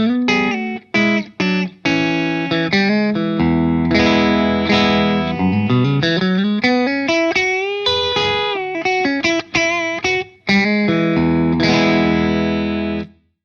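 An electric guitar with split single-coil pickups plays through a Wampler Belle Overdrive pedal, choppy chords and a rising slide, distorted and sustained, loud and up close with no voices.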